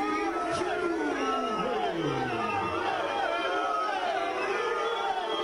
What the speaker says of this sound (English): Hostile crowd.